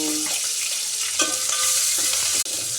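Dried chillies dropped into hot oil already holding cumin and mustard seeds for a black-eyed pea snack tempering. A loud, close, steady sizzle and crackle with a little stirring, and no talk.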